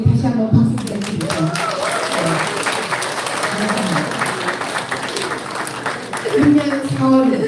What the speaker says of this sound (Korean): 이런 윤석열 의원에게 다시 한번 박수 부탁드립니다